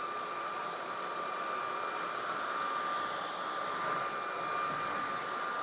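A Powerffy cordless vacuum cleaner runs on a hardwood floor, giving a steady, close whine with an airy rush and a high tonal hum that holds evenly throughout, with no talking.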